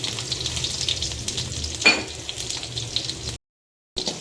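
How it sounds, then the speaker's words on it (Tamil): Crushed garlic is added to hot oil in which mustard seeds have already popped, giving a steady close sizzle with a brief louder burst. A short silent gap comes near the end. "கடுகு பொறிஞ்சதுக்கப்புறமா இப்போ நம்ம இடித்து வச்சிருக்கிற பூண்டு"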